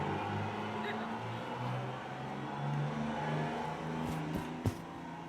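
A truck passes along the road, its engine a steady broadband rumble with a brief louder whoosh near the end; people talk over it.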